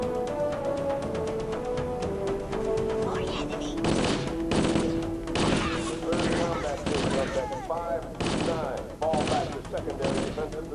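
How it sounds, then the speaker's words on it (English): An assault rifle in Halo: Combat Evolved fires in rapid bursts and strings of shots, sharp and loud over a layer of game music, with short pauses between volleys. "Here's a clip of demonstrating the fire mode."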